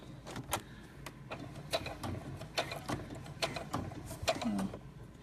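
A sewing machine bastes cork onto cotton in short bursts of quick mechanical clicking, stopping and starting at close range.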